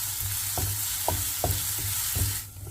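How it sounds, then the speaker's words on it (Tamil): Garlic paste sautéing in a hot pan, a steady close sizzle broken by several sharp scraping stirs of a spoon against the metal, with no talking. "சேர்த்துட்டு இதோட பச்சை வாசனை போகிற அளவுக்கு நல்லா இதை வதக்கிக்கலாம்."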